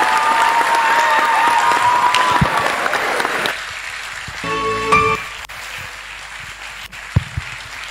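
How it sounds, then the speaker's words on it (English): Audience applause at the 4th MLS induction ceremony, Ladoke Akintola University of Technology: a loud, dense burst of clapping fills the first few seconds, then breaks off into quieter scattered sounds. "With a resounding applause"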